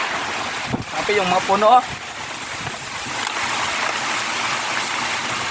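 Strong signal number 4 typhoon winds roar steadily through trees in Antique, a continuous broadband rush that never lets up, with someone talking briefly near the start.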